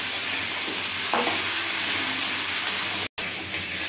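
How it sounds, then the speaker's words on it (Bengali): Potato and eggplant sizzling in a pan, a steady frying hiss with a brief stir partway through and a short break near the end. "আলু আর বেগুনটাকে ভালো করে ভেজে নেব।"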